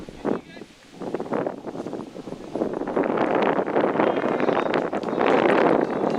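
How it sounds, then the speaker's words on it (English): Strong gusting wind roars across an open outdoor cricket ground at Hecksher State Park, rising from a lighter start into loud, sustained buffeting against the microphone, with a commentator talking over it. "the wind is blowing really, really hard right now, as you can hear in the background"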